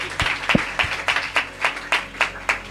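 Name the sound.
congregation applauding in church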